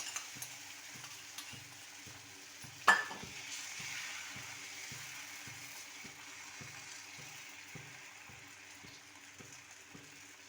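Batter of rice flour, wheat flour and jaggery frying in a little oil on low flame: a soft, continuous sizzle with one sharp clink near the start and a faint rhythmic thumping underneath.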